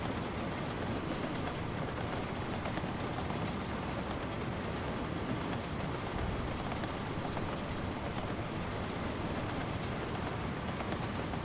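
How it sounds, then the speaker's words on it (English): A train in the video game Workers & Resources: Soviet Republic rumbles steadily along its rails, with a continuous, even rolling roar throughout and no talking. "I never had a ride on this train, so let's have this."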